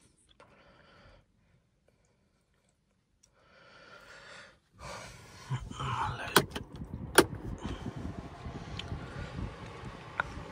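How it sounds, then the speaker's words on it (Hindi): Skoda Slavia 1 litre car starting from inside the cabin: quiet rustling, then a sudden onset of engine noise with a few sharp clicks and bumps as it settles into a steady idle. "सीट थोड़ी पीछे कर लेते हैं, गाड़ी को ऑन कर लेते हैं।"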